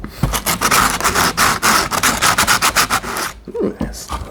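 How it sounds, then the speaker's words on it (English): Rhythmic loud rubbing strokes come from sanding a clay dinosaur mask, close up and steady for about three seconds, then a brief pause and a few softer scrapes. "Yeah, I guess we just kind of start sanding."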